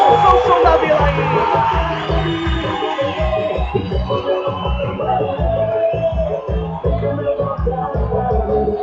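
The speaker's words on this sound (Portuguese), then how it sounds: "A torcida faz a festa, o barulho é grande na Vila Belmiro" Football fans roar at Vila Belmiro stadium during a Campeonato Paulista match, a dense, loud crowd cheer with rhythmic chanting pulses and whoops filling the whole stretch.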